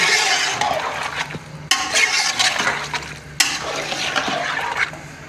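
A spoon mixes salted meat, tomato and onion in a pot for aloo gosht. Loud, close, wet scraping and sloshing come in three sweeping surges, with no voices.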